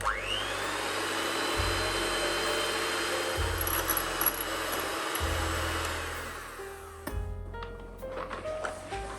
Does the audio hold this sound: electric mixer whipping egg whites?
yes